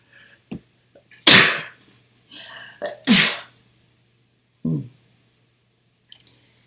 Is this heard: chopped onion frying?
no